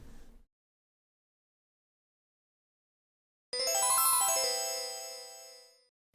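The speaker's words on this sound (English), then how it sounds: "turn that post notification bell on" A notification bell sound effect rings out as a bright, shimmering chime that starts suddenly after a long silence and fades gradually over a couple of seconds.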